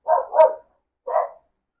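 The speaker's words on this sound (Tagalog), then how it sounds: "May yung aso ko sa labas." A dog barks outdoors: two quick barks, then a pause and one more, moderately loud and clear with nothing else audible.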